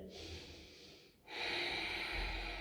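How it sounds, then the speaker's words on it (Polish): A breathy, hissing inhale, a short pause, then a longer, louder throaty ujjayi yoga exhale with a steady ocean-like rasp, close to the microphone. "Możesz oddychać ujjayi. Wydech z dźwiękiem."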